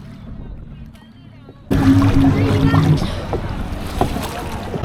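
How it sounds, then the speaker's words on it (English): Oars splash and churn water on a rowboat ride at Adventure Isle in Shanghai Disneyland, a busy close wash of paddling and water noise with background voices. "靠着小朋友们的认真划船，我们终于到了对岸"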